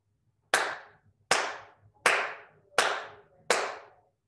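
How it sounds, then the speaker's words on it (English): Children clap five times in a steady, evenly spaced rhythm, each clap sharp and close with a short decay, counted out during a primary maths lesson. "There, five claps."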